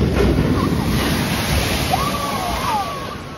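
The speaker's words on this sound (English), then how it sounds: "we got a nice little splash, a nice refreshing splash" A log flume ride at a theme park splashing down into water, a broad continuous rush of churning spray that slowly eases off, with faint voices and whistle-like tones over it.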